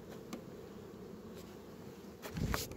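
A honey bee colony buzzes steadily in an open hive, a soft continuous drone with a few nearer bees passing close, no voices.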